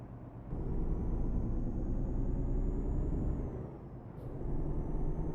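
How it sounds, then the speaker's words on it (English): A Volvo truck driving in Euro Truck Simulator 2 gives a steady, loud low engine rumble with a faint high whine, a brief dip near the end, and no talk over it. "So I'm driving a Volvo truck."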